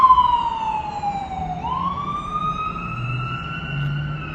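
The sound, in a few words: emergency vehicles passing with sirens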